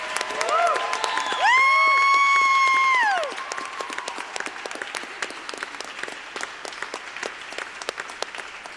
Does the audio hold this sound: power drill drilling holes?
no